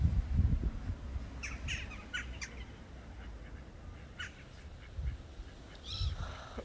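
Water birds call in short, sharp bursts at a lake in Denmark, faint and somewhat distant over wind-like background rumble.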